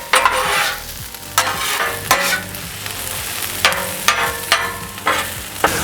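Peppers and onions frying in oil on a Halo Elite 4B griddle, a loud close sizzle broken by repeated spatula scrapes and taps at a steady, busy rhythm.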